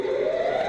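A steady video-game siren blares throughout an esports match, a sustained loud tone held at a single pitch with no talk over it.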